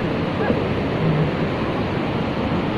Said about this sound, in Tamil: இப்போ தண்ணி போயிட்டு இருக்குதுன்னு